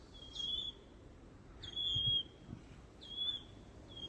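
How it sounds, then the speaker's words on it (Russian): Unseen forest birds give loud, clear whistles: three separate piercing whistled calls, each a short rising note that levels into a steady tone, spaced about a second apart over a faint background hush. "Довольно громкий такой свист."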